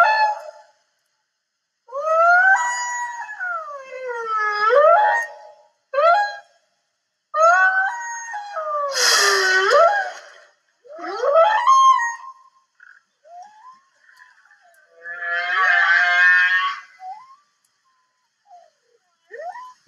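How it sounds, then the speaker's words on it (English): A whale sings underwater in a series of long, sweeping moans and whistles that glide up and down. The calls come in separate phrases with silent gaps between them and no talk. "I want to share with you some whale singing today."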